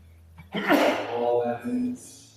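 A single loud, close sneeze bursts out with a sharp intake and breathy release, followed by a short trailing exhale, with faint low hum from a church-like room setting.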